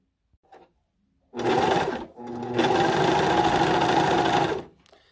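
A Singer S0235 four-thread overlock sewing machine stitches loudly and close by in two bursts, a short run, a brief pause, then a longer steady whir. Faint handling noises come before and after.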